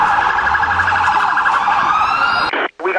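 A loud, wailing ambulance siren sweeps up and down close by during the September 11, 2001 attacks, cutting out briefly near the end before resuming.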